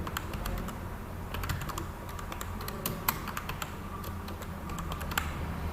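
Keys click in quick, uneven bursts on a computer keyboard as text is entered into an office program, close and fairly quiet over a low background hum, with no voices.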